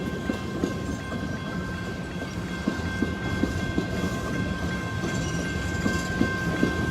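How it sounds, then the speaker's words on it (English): Norfolk Southern 4422 locomotive hauling a couple of cars through a Paducah and Louisville Railway yard in Madisonville, Kentucky, a steady engine drone with rhythmic wheel clacks over rail joints, close and sustained. "the lone engine with a couple of cars coming through the yard"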